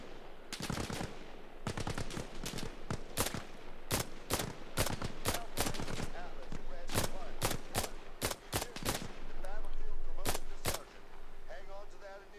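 Close, sharp rifle shots from the Arma Reforger war game crack out in irregular single reports and quick clusters across the whole stretch, loud and percussive, with occasional quieter distant pops between them.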